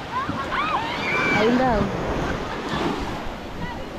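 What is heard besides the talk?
ocean waves surging near a river mouth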